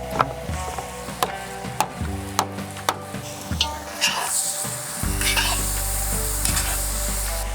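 Smoked ribs sizzle and fry in a cauldron for Ukrainian bograch, with repeated sharp scrapes and knocks of stirring against the pot over a steady loud hiss, close and without talk.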